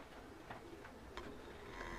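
Pigeons at a coop in Brooklyn coo faintly in the background, a few soft calls and small ticking sounds over a low steady ambience, distant and quiet.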